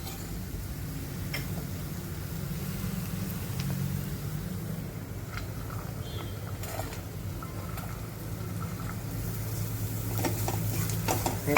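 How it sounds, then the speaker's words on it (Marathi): Spiny gourd (kantola) being stirred into oil-released masala in a pan, a continuous low sizzle with occasional scraping and clinking of the spoon, close and steady with no talk. "हे टाकताना आपण कंटोले हलवून घेऊ, मिक्स करून घेऊ मसाल्यांसोबत"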